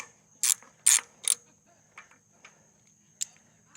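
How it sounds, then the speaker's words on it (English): A wrench works a backwards-mounted lug nut on a failed trailer wheel hub, giving a few sharp metallic clicks and ratcheting bursts, three loud ones close together, then fainter scattered ticks, no talk. "I have to put 205 pounds of force"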